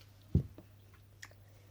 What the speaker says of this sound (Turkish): Önce şuradan sonra da buradan ısıralım hadi.